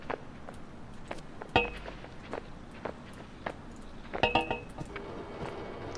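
Glass object knocked about in the physics game Human: Fall Flat, giving two sharp, ringing clinks a few seconds apart among soft footstep-like thuds and scuffs.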